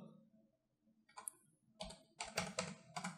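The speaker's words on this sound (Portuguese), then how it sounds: "eu vou utilizar a vírgula aqui do teclado numérico" Keys clicking on a computer numeric keypad during AutoCAD drawing work, including the comma key, sounding as a few quiet sparse taps followed by a quicker cluster of close, crisp keystrokes.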